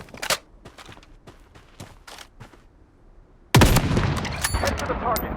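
Gunfire in the shooter Blood Strike: several sharp separate shots in the first seconds, then a sudden sustained burst of loud, dense automatic fire with overlapping cracks.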